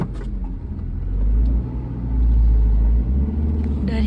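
Low, rumbling car engine running steadily, with two slow swells in loudness as if the vehicle revs or moves, heard close with no speech.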